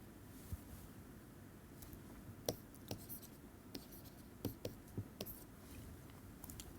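Faint chalk taps and short scratchy strokes on a board during a physics lecture on spin-0 fields, scattered irregular clicks over a low steady room hiss, with no clear speech.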